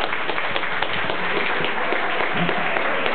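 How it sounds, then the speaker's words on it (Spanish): An indoor audience applauding a speaker at a talk on comics and literature, a steady patter of many hands clapping at moderate volume throughout. "Un aplauso, por favor, para Cristiano."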